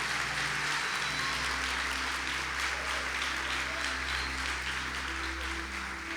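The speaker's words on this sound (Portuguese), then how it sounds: "celebra Jesus com um forte aplauso." Steady applause from a church congregation fills the whole stretch, a dense continuous patter of many hands with a low hum underneath.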